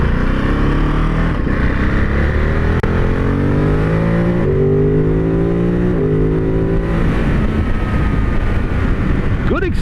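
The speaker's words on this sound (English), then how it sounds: "Good acceleration." Ducati Monster 950 Plus motorcycle accelerating through gears, a loud close engine whine rising in pitch, dropping at shifts and climbing again, with wind rumble underneath.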